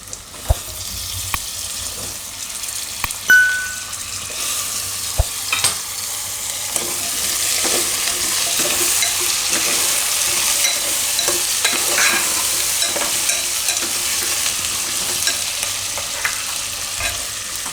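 Chickpeas and potatoes fry in oil along with onions, a steady bright sizzle that swells once they hit the pan, with sharp clinks and scrapes of a spoon stirring now and then and no talk.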